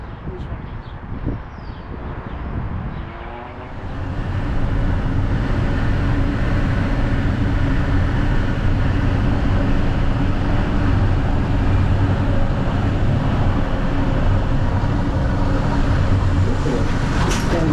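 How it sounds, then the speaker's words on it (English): A metro train running on the rails gives a loud, continuous low rumble and rolling drone that swells after a few seconds and holds steady to the end. "All right, got off the metro train."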